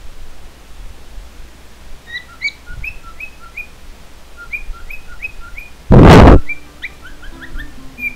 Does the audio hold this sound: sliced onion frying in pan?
no